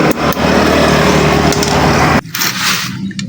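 A carbureted Honda Beat scooter engine runs loud and rough, then cuts out abruptly into uneven, spluttering bursts as the flooded carburetor makes it stumble. Close, with no talk.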